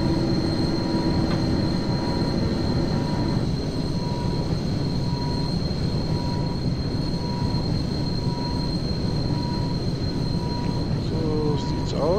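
A BR 216 or BR 120 train runs steadily in the Zusi 3 rail simulator, with a continuous loud rumble of wheels on track, faint squeals and a sustained tone throughout, with no voices.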